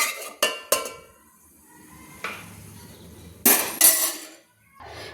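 A metal spoon scrapes fried cashews and raisins out of a pan onto a plate: a few sharp clinks and knocks of metal on cookware, spaced apart, close with quiet gaps between.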